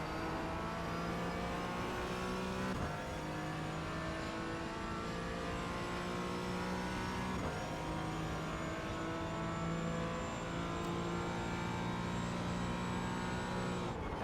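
Porsche 718 Cayman GT4 lapping Okayama in the iRacing sim, its engine note loud and continuous throughout, rising and falling with gear changes and braking as the car works through corners.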